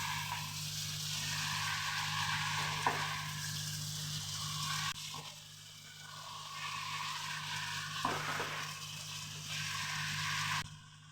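Prawns and taro stolons sauté in a pan for a Bengali curry, giving a low, continuous sizzle that swells and dips with a few faint scraping knocks.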